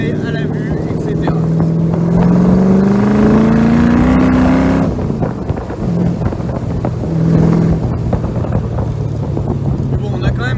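A Ford AC Cobra's V8 revs up on an open seaside drive, its pitch climbing steadily for several seconds before it eases off, with heavy wind buffeting the microphone throughout.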